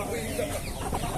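Chickens cluck softly amid a busy, noisy chicken market in Palmeira dos Índios, Alagoas, Brazil, short rapid clucks close by.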